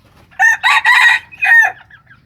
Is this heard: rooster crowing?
yes